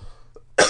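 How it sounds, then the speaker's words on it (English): A single sharp cough bursts out close to the microphone, loud and abrupt after near silence. "Didn't cough until we started podcasting."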